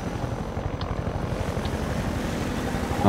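A helicopter in Half-Life 2 hovers nearby, a dense continuous rotor thrum and engine roar filling the scene steadily at high volume with no voices.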